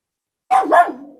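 A dog barks twice in quick succession after a moment of silence, close and loud, with the second bark trailing off.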